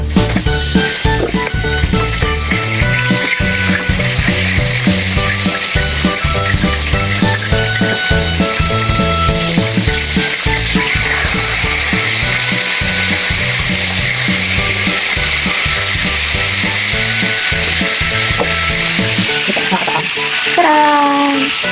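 Tilapia fish sizzling and frying in a pan, a loud continuous crackle and hiss that holds steady throughout, with music playing over it.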